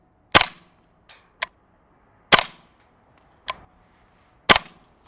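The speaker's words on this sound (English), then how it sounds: "I wonder how quickly we can get shots off in succession in semi-auto." Three sharp, loud cracks from a GHK G5 gas blowback airsoft rifle fired semi-auto, roughly two seconds apart, each followed by a softer mechanical click as the action cycles, in an otherwise quiet setting.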